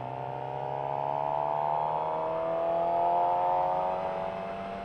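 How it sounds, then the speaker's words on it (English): Stock exhaust of a 2018 Suzuki GSX-R750 motorcycle hums smoothly at low revs while riding, a steady layered drone that swells slightly and eases off with no one talking. "And now the exhaust doesn't sound bad for being stock."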